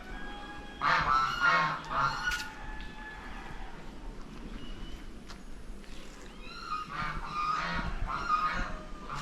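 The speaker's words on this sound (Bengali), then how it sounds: "এখানে পাতিহাঁস" Domestic ducks call in short, fairly faint bursts near the start and again toward the end, separated by a quieter stretch of background noise.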